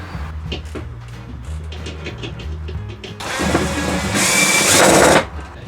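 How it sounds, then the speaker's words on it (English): A power drill whirs loudly for about two seconds, drilling holes for solar panel cables on a narrowboat, following quieter clattering and handling noises. "We now need to drill 4 holes for positive and negative from the solars"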